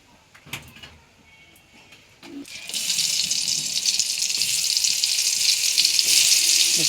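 Eggplant slices fry in a pan, a loud, steady sizzle that bursts in after a few soft knocks and clatter, then holds bright and dense to the end with no voices.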